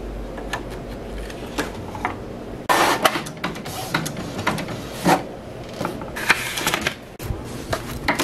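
A printer runs through a job printing custom game case artwork, a busy mechanical clatter of feeds and clicks with louder bursts and shifts in rhythm as paper moves through.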